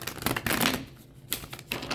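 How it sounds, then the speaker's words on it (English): Tarot cards shuffled by hand in several quick riffling bursts, crisp papery flutters broken by short pauses, recorded up close without any talking. "let me shuffle these cards"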